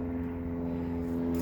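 Propeller airplane droning overhead, a steady low engine hum holding at an even level throughout, heard in the background of a workshop with no talking.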